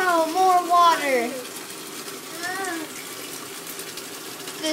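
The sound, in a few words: water flooding a Lego city set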